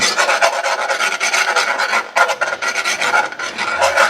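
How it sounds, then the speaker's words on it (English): A whisk scrapes rapidly around a bowl, a loud continuous rasping that pauses briefly midway before resuming, with no voices. "I've got to use this whisk"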